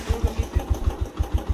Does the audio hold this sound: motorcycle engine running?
yes